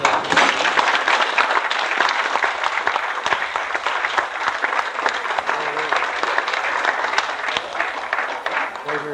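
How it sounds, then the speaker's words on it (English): Sustained applause from guests at a 50th wedding anniversary party, steady dense clapping filling the room throughout and continuing without a break. "hold your applause until we get the other names all in"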